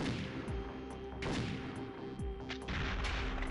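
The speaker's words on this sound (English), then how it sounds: "Explosions also in this game." Several booming blasts from a weapon in Perfect Dark on the N64 in quick succession, punchy and close, with rumbling low ends and sharp cracks, set against a busy game soundscape.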